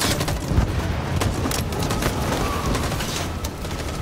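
Dense, overlapping gunfire from the video game Detroit: Become Human fills the scene, a chaotic barrage of shots and booms rattling continuously at close range.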